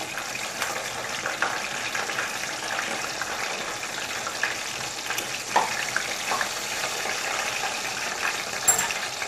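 Eggplant slices frying in oil in a home kitchen pan, a dense continuous sizzle with scattered pops and crackles, close and steady.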